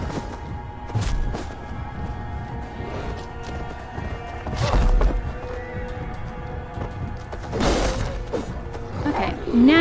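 Horse in the Assassin's Creed Valhalla video game, neighing loudly several times over clip-clopping hooves and thuds, with someone talking at points.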